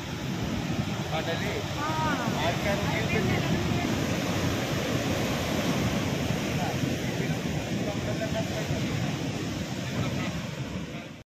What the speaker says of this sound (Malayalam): മതിലകത്ത് കടൽക്ഷോഭം രൂക്ഷം.